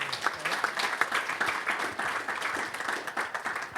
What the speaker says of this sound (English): I'm going to clap for that one.